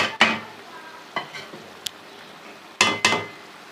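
Spices for a chana dal and karela curry are roasted in a pan, with a soft sizzle broken by several sharp spoon-scraping strokes at uneven intervals.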